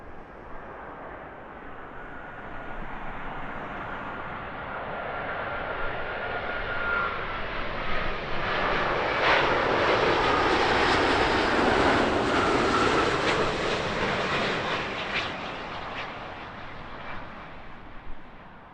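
A plane lands at Heathrow airport, its engine roar building from a distant rumble to a loud, close pass and then fading slowly, heard alone with no talking.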